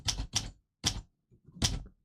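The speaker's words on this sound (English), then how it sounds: "I love the sound of the typewriter." Typewriter keys striking in short bursts, a few sharp mechanical clacks with brief pauses between, close and distinct with no voices.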